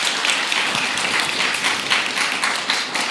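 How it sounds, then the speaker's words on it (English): Audience at a Japanese speech contest in Kenya applauds Ms. Tomoko Tsukahara with a lively, even round of clapping from many hands, close and continuous throughout. "Let's give her a round of applause"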